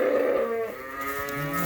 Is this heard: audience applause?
no